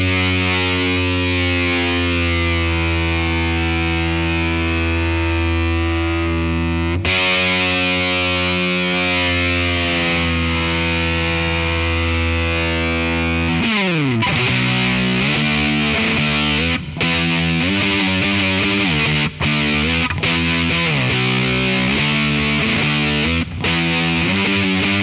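Electric guitar run through a distortion pedal into a Fender Hot Rod Deluxe amp with a touch of reverb, playing Black Sabbath's Iron Man riff: long sustained heavy notes, then a bending slide and choppy riffing, loud and continuous.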